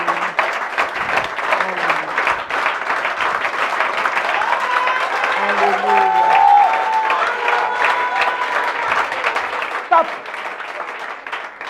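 A church congregation claps and acclaims in a loud, sustained burst, with voices calling out over the dense clapping throughout.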